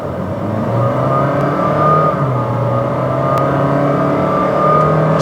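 A 2021 Honda City RS e:HEV hybrid engine revs hard and steadily, a loud, aggressive growl that holds close throughout with slight rises in pitch.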